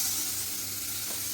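Hot water hits a pan of sautéing onions and tomatoes, giving a steady, close sizzle and hiss that runs evenly throughout with no talking.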